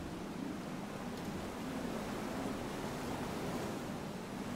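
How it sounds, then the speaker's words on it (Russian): A waterfall in the video game FAR: Changing Tides, a steady broadband roar of falling water with no breaks, loud and continuous. "А, это водопад."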